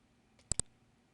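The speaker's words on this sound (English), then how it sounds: "you're going to go ahead and click Submit" Two quick, crisp computer mouse clicks close together, close up and isolated in an otherwise quiet room.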